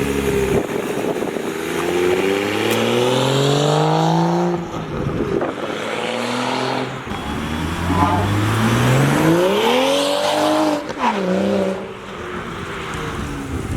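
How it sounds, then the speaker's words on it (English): A BMW 335i with an N55 engine and a VRSF catless race downpipe accelerates past, its exhaust tone climbing through rising revs in several pulls and swooping by close, loud and raspy, with a voice speaking faintly in places. "flyby clips of the downpipe exhaust sound and everything that you were wanting to hear"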